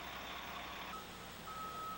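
A transport truck reverses in an industrial yard, its backup alarm sounding as steady tones over a constant low engine rumble, fairly faint and with no voices.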